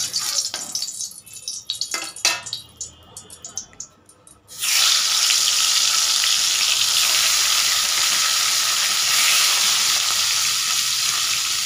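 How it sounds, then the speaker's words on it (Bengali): Pieces of rui fish drop into hot oil in a wok. After a few quieter seconds of clatter, a loud, steady, close sizzle rises and holds until the end. "কড়াই তেল দিয়ে দিয়েছি, তেল গরম হয়ে গেছে। এখন মাছটা ছেড়ে দেব।"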